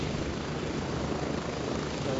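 A helicopter in the video game Gray Zone Warfare gives a steady, dense rotor-and-engine roar throughout, close and continuous with no talk.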